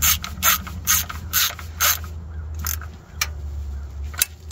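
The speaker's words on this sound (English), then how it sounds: "you want to just snug it up." Ratchet tightening the crank sensor bolts on an LT1 small-block Chevy engine, a quick run of close, sharp clicking strokes, then a few single clicks over a low hum.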